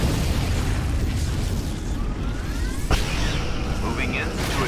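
A Romulan starship explodes in the space combat game Star Trek Legacy, a loud rumbling blast amid dense game noise, with a faint zapping sweep and a sharp crack partway through.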